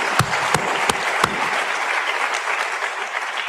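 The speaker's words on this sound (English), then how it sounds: "I think we can give him an applause." A ceremony audience applauds a deputy dean, dense steady clapping filling the room, with a few sharper louder claps standing out near the start, at a consistent level throughout.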